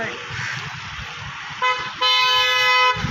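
A vehicle rolls up on a road with engine rumble, then sounds a loud, sustained horn toot, first a short blast and then a longer held one, close by.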